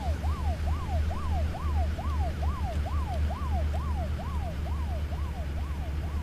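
Fire truck siren in the 18 Wheels of Steel: Extreme Trucker driving game, a rapid repeating wail cycling about a dozen times at steady volume over a constant low engine rumble.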